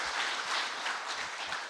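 A crowd applauds in a small meeting room at the South Korean National Assembly members' office building during a talk concert, dense, even clapping, steady and moderately distant, without a break.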